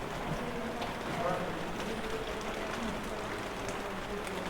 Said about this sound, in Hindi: मतलब बारिश अच्छे से हो रही है